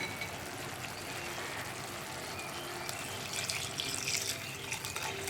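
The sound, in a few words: pouring coconut milk into boiling curry gravy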